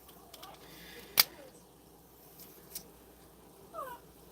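Indoors, a dog whimpers and cries to go outside, faint high whines scattered across a few seconds with a sharp click or knock midway, all quiet against low background noise.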